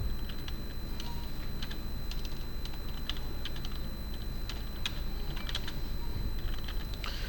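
Code being typed on a computer keyboard gives a continuous stream of close, quick key clicks in an irregular rhythm over a low background hum, with no voice.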